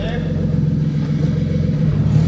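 An N54-swapped BMW F80 M3 pulls hard with a steady, droning mid-pitched engine note that holds loud and close throughout, while someone talks over it.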